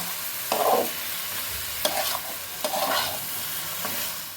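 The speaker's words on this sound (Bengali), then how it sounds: "তো এই যে মাংসটা ম্যারিনেট করা হয়ে গেছিলো, এবার কষতে দিয়ে দিয়েছি কড়াইতে" Marinated meat is braised in a hot wok, sizzling loudly and close while a spatula scrapes and stirs in several distinct bursts; no speech.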